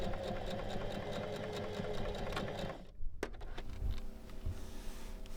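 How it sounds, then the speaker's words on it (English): A sewing machine runs steadily while sewing a straight stitch over a pocket on a robe. There is a close, rhythmic mechanical whir, then a brief pause with a click before it carries on more quietly, and nobody talks. "sew a straight stitch 1 cm from the edge over the pocket"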